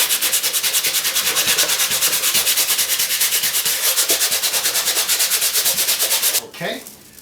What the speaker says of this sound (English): this is a little rough up here, so I'm going to take the sandpaper